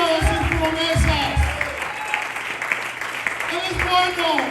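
Church congregation clapping through a Sunday service, a dense wash of hands with low thumping bursts and voices mixed in, steady and fairly loud.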